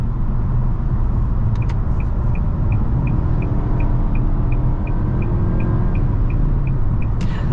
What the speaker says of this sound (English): A little bit of wind noise, but I am on a bridge.